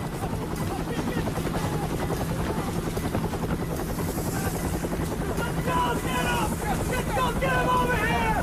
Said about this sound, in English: The men rushed to choppers parked on the old camp's landing zone.